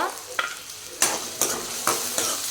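Onion and garlic fry in hot oil in a pan, a steady crackling sizzle punctuated by several sharp stirring scrapes, close and loud with no talking.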